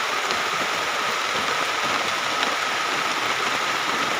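Heavy rain during a thunderstorm, a steady dense hiss of downpour pattering on surfaces, constant and fairly close for the whole stretch with no voices.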